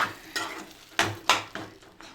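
Butter chicken being fried in a pan while a utensil scrapes and stirs it. Several sharp scraping strokes sit over a steady soft sizzle, close up, with no voices.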